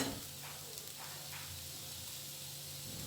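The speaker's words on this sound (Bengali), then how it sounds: "মুগ ডালটা দিয়ে দেওয়ার পর খানিকক্ষণ ধরে ভাজতে হবে।" Mung dal dry-frying in a pan for dalia khichdi gives a steady, soft sizzle with faint hiss throughout, fairly quiet, with a low hum underneath and a few light stirring scrapes.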